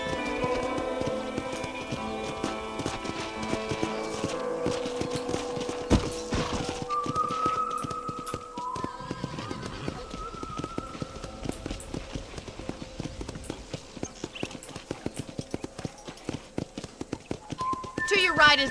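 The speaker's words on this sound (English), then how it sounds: "let's see if you can still ride a horse." Hooves clip-clop steadily as a horse is ridden in Red Dead Redemption: Undead Nightmare, the video game, with a quick, regular gait under game music and occasional voices talking.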